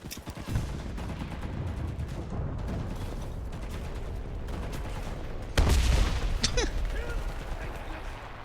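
Artillery fire in a battle royale video game: a dense, continuous barrage of booming impacts and gunfire throughout, with a heavier blast about two-thirds of the way through, and a player talking over it.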